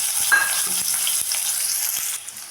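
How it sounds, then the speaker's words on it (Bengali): Potatoes frying in hot oil with salt and turmeric, a steady bright sizzle with soft stirring scrapes, close and continuous. "এটাতে আমি নুন হলুদ দিয়ে ভেজে নেব"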